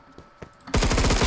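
After a quiet moment with a couple of soft thuds, loud rapid automatic gunfire erupts in a fast continuous burst in the video game Phantom Forces.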